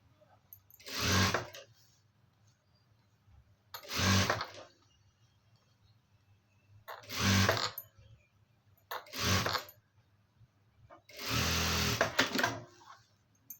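Five short bursts from a sewing machine stitching a garment at the shoulder seam, each run lasting about a second, separated by quiet pauses, with the last burst longer and louder.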